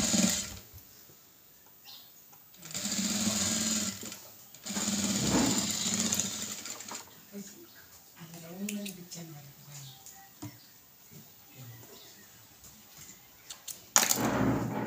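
A sewing machine stitches fabric in two loud, buzzing bursts of a few seconds each, then in shorter intermittent runs. Someone talks between the bursts.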